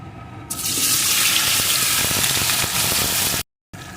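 Cut taro pieces hit hot spiced oil in a pan, setting off a loud, dense, steady hiss that runs for about three seconds before dropping out abruptly, with no talking.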